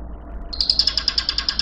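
A bird call rises suddenly and repeats as a quick run of about ten sharp, evenly spaced high chirps, loud and close over a faint low hum.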